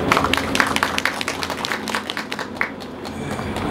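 Crowd applause at a snow-disaster preparedness drill ceremony in Nonsan, steady scattered clapping from a roomful of people, moderately loud and continuous throughout with no speech over it.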